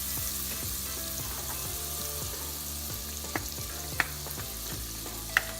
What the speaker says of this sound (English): I'm going to go ahead and melt this butter.